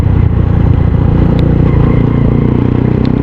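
A motorcycle engine with a wet air filter runs loud and close, idling with an uneven, sputtering low rumble and a little mechanical clatter, no voices over it.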